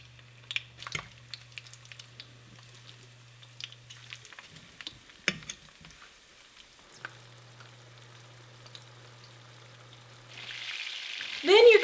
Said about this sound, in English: To fry them in oil, put a small amount of oil in your pan.